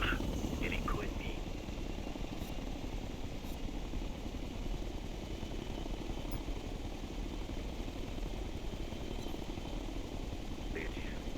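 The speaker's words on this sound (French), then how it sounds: "Contact ennemi sur la gauche. Hélico ennemi." An enemy helicopter in the video game Tom Clancy's Ghost Recon Future Soldier, a continuous low rotor rumble with a throbbing beat that holds steady throughout, with faint talk mixed in.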